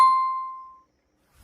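A single bright bell ding rings out alone, clear and close, its tone fading smoothly over under a second before silence and a faint low thump at the end.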